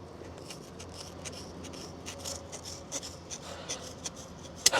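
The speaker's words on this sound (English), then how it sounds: "So I got some industrial scissors." Industrial scissors cutting through excess tie-down strap from an E-track rail kit for a 2023 Kawasaki Teryx 4, a quiet run of close rasping snips and rubbing with a sharper click at the end.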